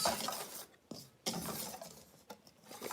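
Vegan gluten-free banana chocolate chip muffin batter whisked in a bowl to break up clumps, a few bursts of brisk scraping and rubbing strokes close by, with no voices.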